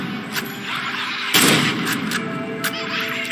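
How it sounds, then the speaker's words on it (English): Gunshots ring out in the video game Insomnia: Breaking Lockdown, with several sharp, loud cracks spaced irregularly, one especially strong blast in the middle, over a low background hum. "So I gotta pop off 2 shots"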